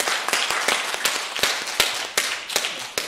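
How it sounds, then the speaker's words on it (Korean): A congregation in a Korean Methodist church service claps for God after an elder's ordination, giving sharp, dense, loud applause with strong accented beats recurring in a steady rhythm. "우리 크게 하나님께 박수로 영광의 박수를 드립니다"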